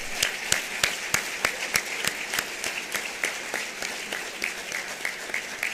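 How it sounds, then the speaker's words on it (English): Applause from an audience at an annual awards ceremony, a steady spread of many hands with individual claps standing out sharply, sustained at moderate level throughout. "I want us to give an applause to our chairman, to our first lady, and to Brian Collier"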